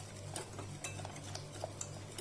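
A utensil stirs a cheesy pasta sauce in a pan over a medium-high flame, giving repeated scraping and clinking strokes at an uneven rhythm over a low steady hum, close by, with no voices.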